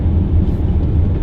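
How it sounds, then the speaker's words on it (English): Inside a Dodge Viper GTS on the move, engine drone and wind roar blend into a steady, loud, broad rumble with no talking. "The car is very loud in every regard, in terms of road noise,"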